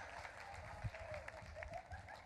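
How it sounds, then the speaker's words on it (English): A small room audience claps for a student after a presentation, brief and faint at a distance, with some indistinct murmuring mixed in. "Give him a round of applause."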